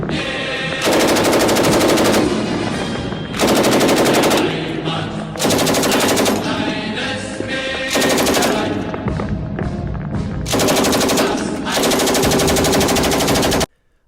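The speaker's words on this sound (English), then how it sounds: "It also had a coaxial MG34 machine gun for buzzsawing down infantry if they ever get too close." Rapid bursts from the coaxial MG34 machine gun of a Panther tank rattle loud and close in repeated long strings with brief gaps, with echoing gunfire running beneath the bursts.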